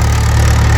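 A tractor engine idles steadily before a ride to an old Shiva temple in the Godavari at Bhadradri, giving a close, continuous low throb with a regular pulsing beat and no voices.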